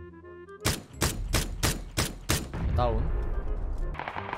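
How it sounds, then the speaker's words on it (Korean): Rapid bursts of gunfire in the battle royale game PUBG, six sharp loud shots spaced about half a second apart, followed by sustained rumbling action noise while a player briefly calls out. "총소리 지금 바깥 들었네."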